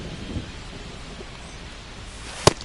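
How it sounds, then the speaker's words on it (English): Steady rain falls on a ballpark during a Guardians vs. Mets baseball game, a close, even hiss broken by one sharp crack near the end. "This rain is not letting up."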